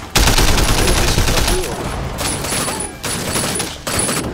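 Rapid assault rifle fire and heavy bursts of gunfire from the video game Sleeping Dogs, loud and close, sustained in long volleys with brief gaps, with voices shouting over the shooting.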